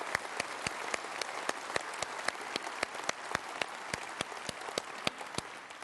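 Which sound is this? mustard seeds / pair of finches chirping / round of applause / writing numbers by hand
round of applause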